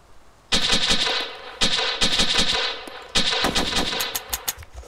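Rapid bursts of SKS rifle fire in the video game DayZ Origins, loud and close, in several strings of quick shots separated by short pauses.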